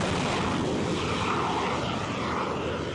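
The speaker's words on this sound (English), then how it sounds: "The Hornet was launched from the carrier, followed by the X-47B." An X-47B stealth drone launches from an aircraft carrier after an F/A-18 Hornet, a steady loud roar of jet and airframe noise that holds evenly throughout with no voices.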